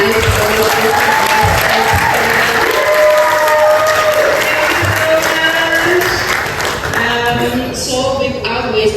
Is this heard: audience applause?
yes